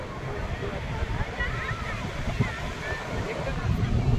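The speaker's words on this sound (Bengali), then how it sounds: "সমুদ্রের আওয়াজটাই তো মেন।" Large full-moon surf at Puri beach roars continuously up close, a dense rumbling wash of breaking waves mixed with buffeting wind.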